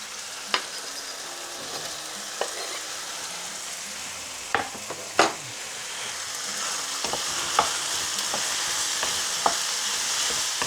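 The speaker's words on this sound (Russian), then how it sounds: "И тоже дадим немножко обжариться." Peppers sizzle in hot oil with garlic in a pan, a steady close hiss broken by sharp scraping clicks as a utensil stirs them now and then, with no voices.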